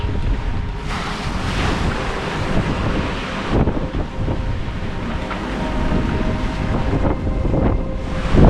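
Strong wind roars and buffets the microphone while waves crash and wash around continuously, a loud, rough sea during a sailboat crossing of the Indian Ocean, with no talking.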